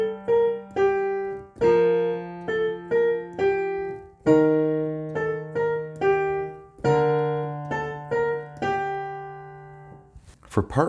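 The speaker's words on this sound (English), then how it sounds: "So part 1 sounds like this." Solo piano plays the Carol of the Bells chorus, first section: a repeating right-hand four-note figure over sustained left-hand bass notes, with steady rhythmic strikes, close and clear, no talking.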